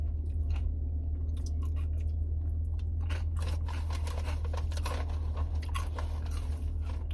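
Close, soft chewing and crunching of food, likely chips with a slowly building spicy salsa, in irregular bites over a steady low hum, with no talk.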